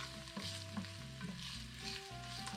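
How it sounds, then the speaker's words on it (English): Onions frying in olive oil in a pan, with a steady close sizzle and light stirring scrapes and clinks running throughout. "our onions here in olive oil"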